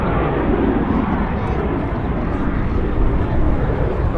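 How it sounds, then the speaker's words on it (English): A de Havilland Sea Vixen FAW2 twin-boom naval jet fighter roars steadily through a flying display at an air day, a broad, continuous engine rumble that stays loud and even throughout with no pauses. "this wonderful airplane flying out here today"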